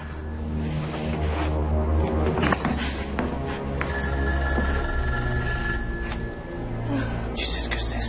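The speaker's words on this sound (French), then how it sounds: "Laisse-le sonner. Il faut que je décroche" A telephone bell rings insistently in repeated bursts, loud and close, with faint voices and low room rumble underneath.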